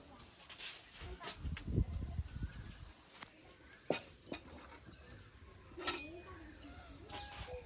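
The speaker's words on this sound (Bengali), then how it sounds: "এখন কড়াইটা চাপিয়ে দেব।" A kadai (wok) is set down on a home stove while preparing a Bengali chicken curry, giving a few quiet, scattered metallic clanks and light clinks of pots, with a low murmur in the background.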